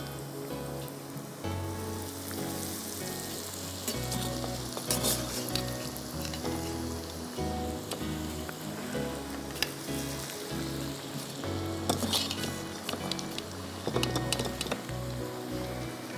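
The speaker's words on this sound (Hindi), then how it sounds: "अब मैं इसको डाल रही हूँ फ्राई करने।" Chicken pieces deep fry in hot oil, a steady bubbling sizzle with crackles and a low rumble from the burner, continuous and close, no speech.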